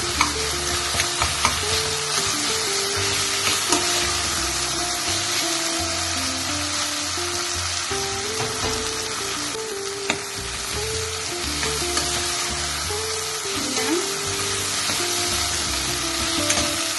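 Chopped onion and tomato cook in oil in a pan, a steady close sizzle and frying hiss running throughout with occasional stirring scrapes and faint clinks, no voices.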